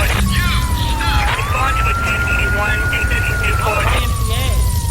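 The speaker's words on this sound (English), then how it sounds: "The police chopper is right on me" A police helicopter siren in Grand Theft Auto III wails in a long, steady rising tone over a dense wash of background noise, with chopping rotor rumble and scattered game sounds throughout.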